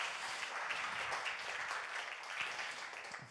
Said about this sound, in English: Please give her a round of applause so she can hear you all the way back in Brussels